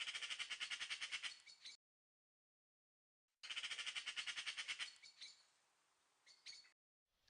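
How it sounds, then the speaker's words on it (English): Magpie song played back from the RSPB First Birds app, two bursts of rapid, evenly pulsed chattering calls separated by silence, then a few scattered fainter calls. "here again we can listen to the magpie song."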